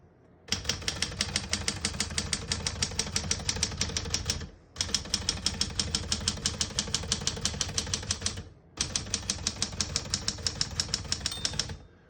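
Rapid keystrokes on a 1980s Smith-Corona Deville Deluxe portable typewriter clatter in three long bursts, separated by brief pauses, close and steady.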